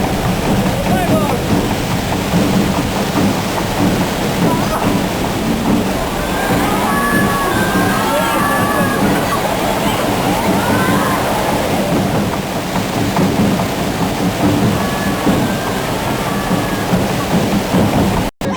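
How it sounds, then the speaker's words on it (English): A tsunami wave surges over a coastal peninsula, a loud, continuous roar of sloshing, rushing water lasting the whole stretch, with voices of people audible underneath. "a much larger wave swept the entire peninsula"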